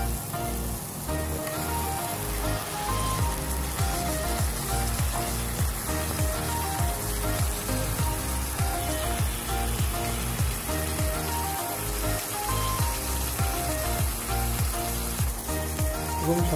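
Chicken pieces added to cooked-down spice masala for a Bengali-style chicken and potato curry sizzle and fry steadily in the pan, a loud continuous crackle with occasional stirring, no voices.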